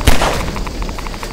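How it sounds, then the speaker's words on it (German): A sharp, loud explosion in Half-Life 2 bursts out at the start and leaves a ringing, rumbling tail with faint rhythmic metallic pulses. "Ich habe da jetzt Explosion."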